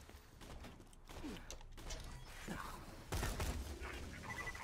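Assault rifle bursts in the Borderlands 2 video game crackle in faint, repeated volleys, with a sharper, louder burst near the end.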